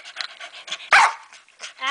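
A dog pants and barks in short bursts close by, with one loud sharp bark standing out midway and quieter breathy panting around it.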